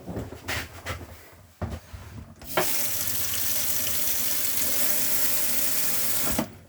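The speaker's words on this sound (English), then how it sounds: "run the water through the tap to get the air out" Water gushes from a tap in a 2013 Swift Challenger SE 570 caravan as air is purged from the system, a steady loud rush after a few soft knocks and clicks, with sputtering bursts near the end.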